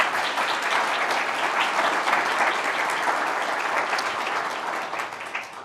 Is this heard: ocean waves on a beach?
no